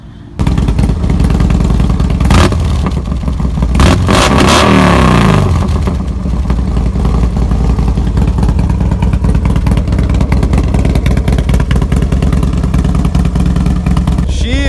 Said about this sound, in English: this is the Brooklyn Lowrider, and today is a good day because I got my bike back